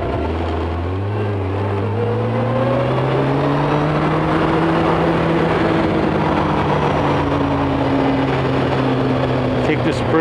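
A motorcycle engine pulls steadily in first gear on a damp ride, its rising harmonic drone loud and continuous for the whole stretch, with a faint voice now and then underneath.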